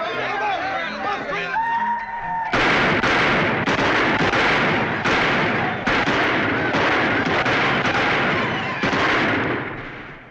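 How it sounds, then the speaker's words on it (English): Gunfire outside in a western town setting: after a brief stretch of voices, a rapid string of loud, cracking shots with echoing booms rings out for several seconds, mixed with crowd noise. "You gonna do anything about those guns out there?"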